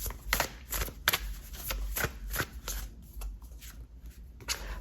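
Oracle cards being shuffled by hand in a quick series of crisp riffling bursts and soft slaps, close and clear with no talking over them.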